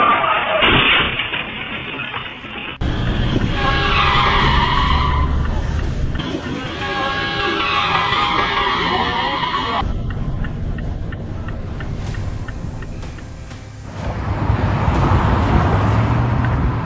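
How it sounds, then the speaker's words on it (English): A six-vehicle pileup on a highway above Florence Avenue, with loud, continuous car noise and skidding tires throughout, the sound shifting abruptly between segments as the crash unfolds. "A dramatic moment unfolds as 6 vehicles crash on the highway above Florence Avenue."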